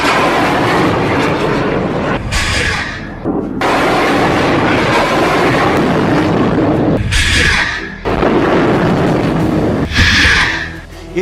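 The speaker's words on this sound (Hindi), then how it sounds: "एक के बाद एक हमास 10 रॉकेट फायर करता है।" Hamas rockets launch one after another, each firing a loud roaring whoosh that bursts out over a constant heavy rumble, with several separate blasts spaced a few seconds apart.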